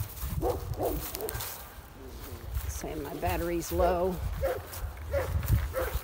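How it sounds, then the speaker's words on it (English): Several dogs bark and yip at feeding time during an evening walk by a creek, with a few harmonic barks around the middle over steady outdoor noise, while a person talks nearby throughout. "The dogs are barking."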